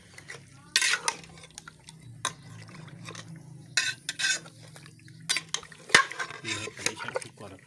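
A spoon scrapes and clinks against a metal pot while a thick mutton pulao mixture is stirred, with a faint sizzle underneath.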